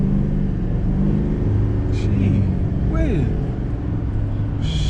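A 2022 GMC Sierra 2500HD Denali heavy-duty diesel pickup accelerates hard, its low engine rumble steady and loud from inside the cab, with a rising drone sweeping upward as it gathers speed and a voice speaking over it.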